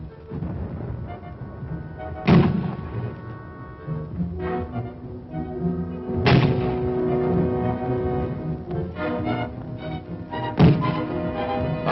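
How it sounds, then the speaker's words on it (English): A 60 millimeter mortar fires three times in a wartime field offensive, each shot a sharp heavy thump spaced about four seconds apart over a rumbling background of distant battle noise. "The sights are aligned and the 60 millimeter begins its explosive attack."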